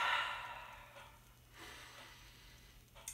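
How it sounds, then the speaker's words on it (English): A single slow, deep breath drawn in and let out near the mic, soft and steady with no talking, easing off into quiet by the end. "So take a deep breath."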